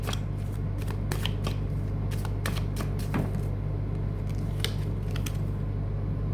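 A deck of tarot cards is shuffled close up, a rapid series of crisp riffling snaps and flutters over a low steady hum, with no talking.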